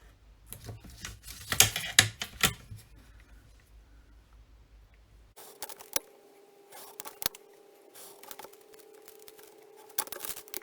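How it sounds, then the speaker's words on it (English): A Stanley knife slices paper greenery along a metal-edged ruler, with a burst of close, crisp cutting and scraping strokes early on, then quieter intermittent ticks and scrapes over a faint steady hum. "So we just need to cut the greenery out."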